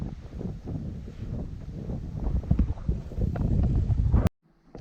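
Wind gusting across an open reservoir in poor weather, buffeting loudly and unevenly against the microphone, then cutting off abruptly near the end.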